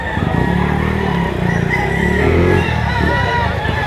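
Rooster crowing at a live chicken sale in Lipa, Batangas, heard close and loud amid constant crowd chatter and a seller's talk, with other birds clucking in the background.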